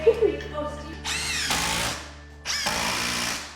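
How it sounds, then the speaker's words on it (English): A power drill drives screws into a window trim board in two bursts of high whine lasting about a second each, close and loud, with brief sounds before them. "when we drive these screws in, we're actually hitting a board"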